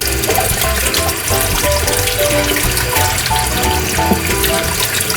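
Raw potatoes being washed under a running kitchen tap, a loud, steady rush and splash of water over the skins, continuous throughout with no talking.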